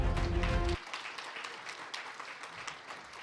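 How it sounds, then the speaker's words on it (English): Applause at the official launch of a national housing policy as the audience stands to welcome the minister and deputy minister. A loud, full sound cuts off abruptly, leaving lighter, steady clapping from the crowd. "Please give them a round of applause."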